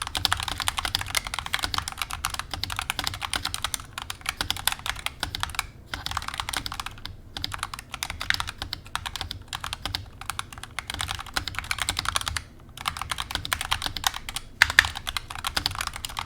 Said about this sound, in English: before the typing test is that it has a detachable USB-C cable